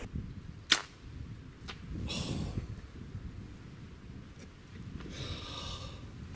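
At close range, a bow shot at a Coues deer buck 67 yards away gives a sharp, brief snap, followed by faint rustling and breathing in an outdoor setting.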